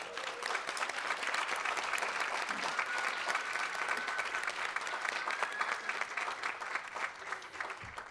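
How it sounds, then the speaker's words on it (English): Sustained audience applause for a graduating class at a Geisel School of Medicine at Dartmouth awards ceremony, a steady hall-filling patter of many hands lasting about eight seconds at moderate level. "Let's have a round of applause for our graduating class."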